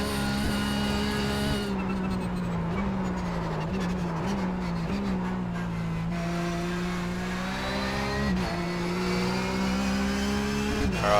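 A Porsche 911 GT3 Cup engine revs hard on the Bathurst circuit in iRacing, a loud continuous racing drone rising and falling with gear changes and throttle, with no talk.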